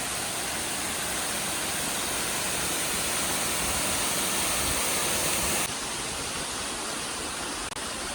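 A roadside waterfall in the Idukki hills, a dense, steady roar of rushing water heard close, continuous throughout with a slight drop in level near the end.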